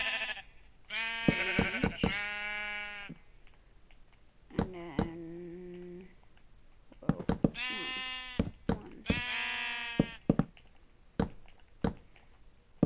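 Minecraft sheep bleat in the PlayStation 4 edition of the game, several wavering, nasal calls in short bursts, with light clicking and tapping between them and no talk.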